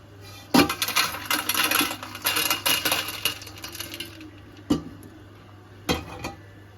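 Roasted edible gum (gond) being scooped out of a pan: a busy stretch of close metal scraping and clinking, then a few separate sharp clinks.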